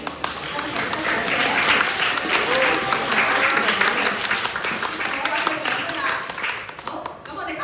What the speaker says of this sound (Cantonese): 咁咧我哋再次掌聲恭喜得獎者